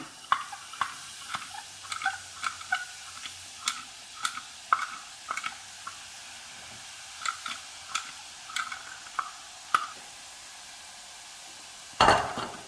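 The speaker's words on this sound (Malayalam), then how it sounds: "ഇനി നമുക്ക് ഇതൊന്ന് പീച്ചിയിട്ട് വറുത്തെടുക്കാം" Curry leaves frying in hot oil, a quiet steady sizzle broken by a regular series of sharp crackling pops, close up, ending in a brief louder rustle.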